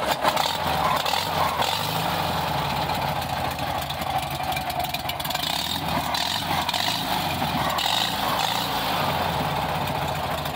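A 1973 Volkswagen Fusca 1300 with an air-cooled engine runs steadily at idle, a continuous even chugging that is moderately loud and close, with no voices.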